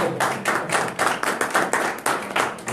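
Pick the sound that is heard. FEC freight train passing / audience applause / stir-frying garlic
audience applause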